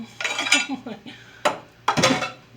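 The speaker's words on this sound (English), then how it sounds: "I'm gonna mix my mixture really well in this bowl" A spoon scrapes and clinks against a bowl while a cranberry salad mixture is stirred, a run of close clattering strokes with brief pauses between bursts.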